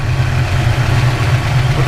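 A Ford Mustang idles with its radiator cooling fans running, giving a steady low whirring drone close by, while someone talks over it.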